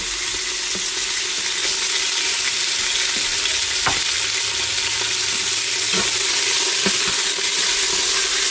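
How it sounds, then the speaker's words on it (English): Beef stew ingredients sauté on the high setting inside a pressure cooker, giving a steady, loud sizzle and frying hiss with occasional stirring clinks and scrapes throughout. "Now I can have this saute,"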